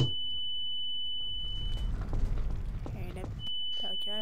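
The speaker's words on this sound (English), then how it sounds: "I heard a beep." A thin, high electronic beep sounds twice in a Trouble in Terrorist Town match, once near the start and again toward the end, while players talk and noise rumbles underneath.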